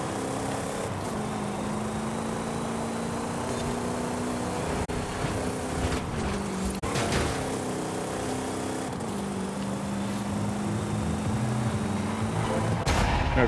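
Plymouth Barracuda engine in Forza Horizon 5 roaring continuously as the car drives, with pitch rising and dropping through gear changes and sharp crackles, loud and unbroken with no voices.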